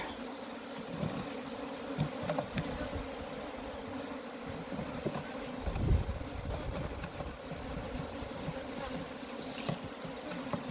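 A steady, dense buzzing of many honey bees around a hive fills the air, close and continuous, with individual insects droning past now and then.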